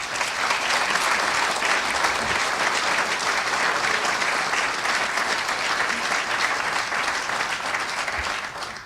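Sustained applause from a large audience at a county State of the County address, dense and even clapping filling the hall for several seconds before tapering off at the end.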